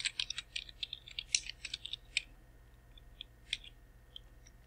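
Fingers tap out an expense name on a computer keyboard, producing quick bursts of crisp, close key clicks. The typing comes rapid at first, then thins to a few scattered presses against a quiet room hum.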